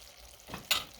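Ground beef frying in a pan, with soft sizzling and a few brief bursts of stirring or spattering.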